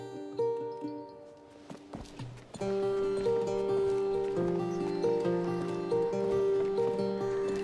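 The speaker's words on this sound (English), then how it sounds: "It's a lovely horse." Steady clip-clopping horse hooves in the video game A Plague Tale: Requiem play over a loud, tonal melody with sustained notes, after a brief quieter opening; the hoofbeats are partly masked by the music.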